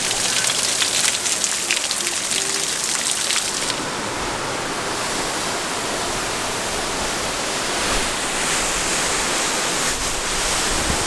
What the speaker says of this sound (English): There's a lot of water coming here from the waterfall. Looks like literally like it's raining very heavy.